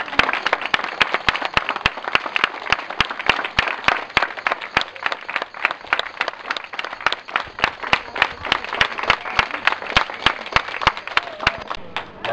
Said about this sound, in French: je vous propose de faire comme tout à l'heure et de les applaudir